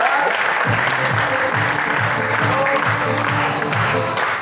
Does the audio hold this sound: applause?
yes